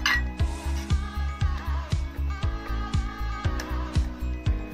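Green peas with salt and water being stirred in a kadai: a loud, close series of rhythmic metallic clanks, roughly two strokes per second, each ringing briefly.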